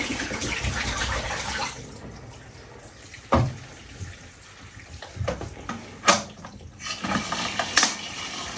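Water runs from a tap with a steady splashing hiss that fades out, followed by scattered drips, clunks and handling noises nearby.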